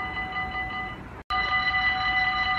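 A train passes at night in Sint Joost with a continuous loud rumble and a steady tonal whine throughout, briefly cutting out once before resuming.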